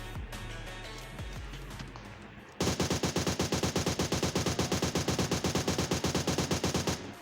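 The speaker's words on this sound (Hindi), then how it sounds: "मुझे वहाँ से फायर की साउंड वगैरह होता है" Gunfire in the PUBG Mobile video game, with a steady rapid automatic burst of evenly spaced loud shots starting midway after quieter rattling background.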